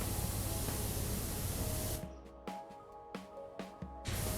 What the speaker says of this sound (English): when you get runoff, then you just also spray that with the power washer.